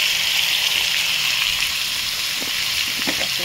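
Boiled young jackfruit fries in a pan with a constant, bright sizzling hiss, close and even throughout, with a few faint knocks of stirring near the end.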